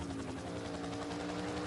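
Helicopter rotor and engine drone at the Bathurst circuit in the rFactor 2 racing sim, a loud, steady broadband whir with a constant low hum and rapid rhythmic chopping throughout.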